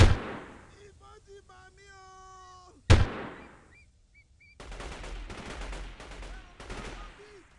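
Gunfire in the video game Delta Force 2: a loud single shot opens, a second sharp blast follows near three seconds, then a sustained burst of rapid automatic fire with tonal game sounds in between.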